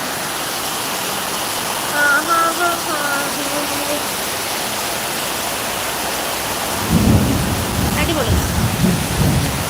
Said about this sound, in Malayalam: ഇടിയാണ്